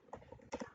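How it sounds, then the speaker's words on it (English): Quick light keystrokes on a computer keyboard, a short burst of a few taps, faint and close by. "let me just change it back, type it to"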